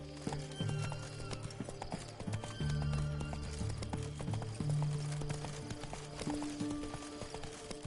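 A horse gallops in The Witcher 3, its hooves clip-clopping in a brisk, steady rhythm close by, with a low snort or whinny over continuous ambient game sound.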